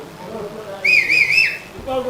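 A person whistles a short wavering note among the crowd at a cricket match between the USA and India in Barbados, brief and fairly clear over low background murmur.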